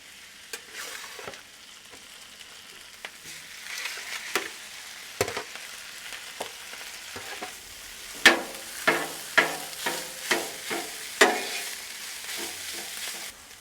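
Rice fries in a whole stick of butter on a Blackstone griddle, a steady close sizzle with rapid rhythmic scraping strokes of a spatula growing louder toward the end.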